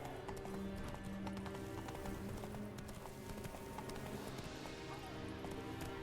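Horse galloping in The Witcher 3, a steady rapid run of hoofbeats throughout, close and prominent under game music and ambient noise, with a faint whinny.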